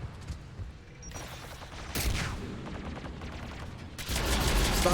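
Gunfire in the Mass Effect 3 video game, scattered shots and bursts of varying loudness followed by a denser, louder volley near the end.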